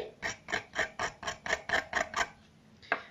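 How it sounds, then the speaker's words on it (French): A scalpel blade scrapes a pastel chalk stick in about nine quick, even rasping strokes, close up, then a pause and one last scrape. "Je vais me munir maintenant de mes pastels que je vais venir gratter à l'aide de mon scalpel."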